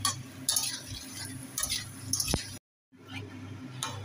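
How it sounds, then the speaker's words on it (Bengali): Taro and potato pieces are stirred in a cooking pan, a spoon scraping and clinking against the metal in short bursts with a brief pause, close by and without talking. "কচুটা দিয়ে ভালো করে নাড়াবো, নাড়িয়ে ভালো করে কষাবো"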